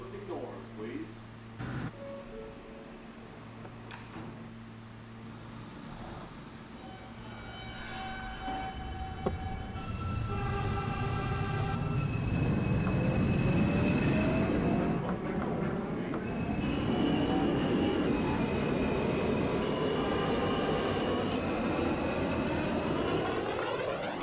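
A simulated subway train in OpenBVE departs Jamaica Center, its motor whine rising in pitch and a rumble building as it pulls away, heard beneath radio chatter and announcements.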